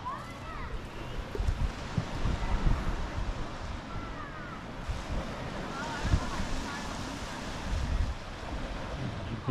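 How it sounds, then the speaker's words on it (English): Steady surf washes onto a beach on Lake Huron in Michigan, a broad continuous rush with gentle swells, mixed with wind buffeting the microphone and no clear speech. "here's one of many beaches on Lake Huron"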